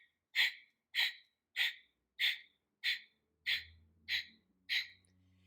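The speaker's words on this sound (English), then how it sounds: "you pump your exhales and then your inhales come naturally" Eight sharp, forceful nasal exhales of breath of fire pranayama, pumped in a steady rhythm, each short and punchy with quiet gaps between.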